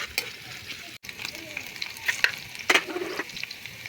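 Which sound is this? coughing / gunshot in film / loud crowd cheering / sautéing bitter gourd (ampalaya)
sautéing bitter gourd (ampalaya)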